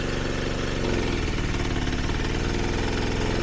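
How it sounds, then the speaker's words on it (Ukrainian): Forte 3800 gas-petrol generator running under a heavy load, a loud continuous engine drone with steady low throbbing that shifts pitch slightly about a second in, alone with no talk. "Генератор не тягне."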